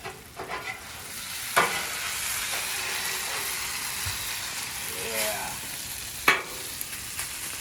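A metal spatula scrapes burnt cheese off a hot griddle while Philly cheesesteaks cook. A few sharp scrapes and clanks cut over a steady, moderately loud sizzle of frying.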